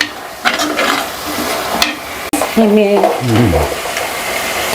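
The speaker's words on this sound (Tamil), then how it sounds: "வந்து கருவேப்பிலையும் சேர்த்துடலாம் வெங்காயம் கொஞ்சம் நேரம் வதங்கட்டும்" Onions and curry leaves sauté in a pan for a fish curry with a soft background sizzle. Clanks of utensils come near the start, a sharp knock follows midway, and a brief tonal voice-like sound is heard afterward.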